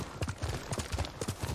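Hoofbeats of a horse trot in a steady clip-clop rhythm in the video game Ghost of Tsushima, close and fairly loud, mixed with game ambience.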